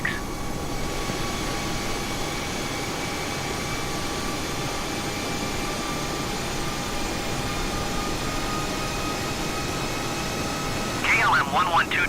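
Steady, loud engine roar of a KLM Airbus A320 during its takeoff run at Frankfurt, a continuous cabin drone with whining tones, ending in a brief clatter.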